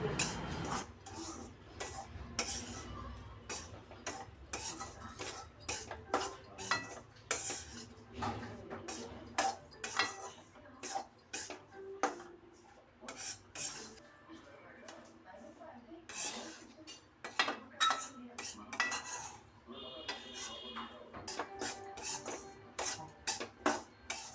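A sweet made from leftover sugar syrup, with ghee added, is stirred and roasted in a pan, giving repeated close scraping and clinking of a spoon against metal in an uneven rhythm, with a voice speaking over it.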